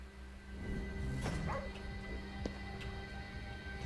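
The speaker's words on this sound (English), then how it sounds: "There's a dog." A dog in the video game Ghostwire: Tokyo lets out a few short yips and whimpers, moderately near, over a low ambient game background.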